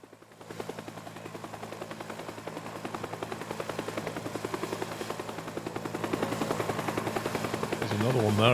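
Helicopter rotor chopping steadily in the Teardown video game, a fast continuous thudding that grows louder toward the end, with gunfire-like bursts mixed in.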